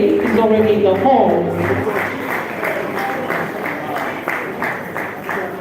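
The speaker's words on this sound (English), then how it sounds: "Please give him a round of applause as he makes his way." An audience in a hall applauds steadily as an honoree makes his way to an elevated table, sustained crowd clapping throughout with a voice speaking over the start.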